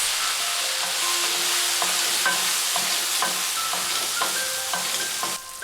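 Tofu stir-frying in a pan with salt, ground pepper and cooking wine, a steady close sizzle with regular light clinks of a utensil stirring, no talking.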